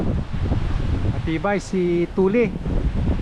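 Strong wind roars steadily at a beach car campsite in Lian, Batangas, a loud rushing buffet against the microphone, with someone speaking briefly over it.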